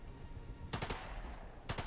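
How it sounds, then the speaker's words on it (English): Two short bursts of rapid automatic gunfire from The Lamplighters League video game, each a quick cluster of shots, over a quiet background hum. "Just take him out with gunfire"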